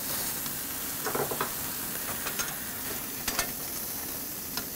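Tomahawk ribeye steaks searing on a 1500°F cooker, giving a steady sizzling hiss with scattered pops and crackles up close.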